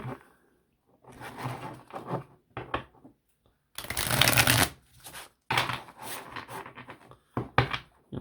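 Tarot cards are riffled and bridge shuffled close up, with several bursts of fluttering, rapid card clicks and a few softer handling sounds between them, and no talking.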